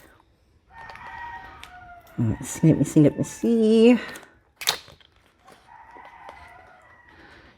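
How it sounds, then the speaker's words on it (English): A rooster crows loudly nearby, with a few clucks around it, while a person speaks briefly before and after. "you might be hearing chickens in the background."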